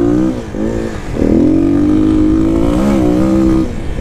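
A 2021 Kawasaki KLX300 dual sport motorcycle revs while being ridden. The engine note is loud and close, rising and falling through several throttle surges and steady pulls.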